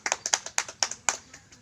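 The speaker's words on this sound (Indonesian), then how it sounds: "Tepuk tangan untuk kita semua." A handful of sharp, separate hand claps ring out close by during a teaching session, irregularly spaced and fairly faint, then stop quickly.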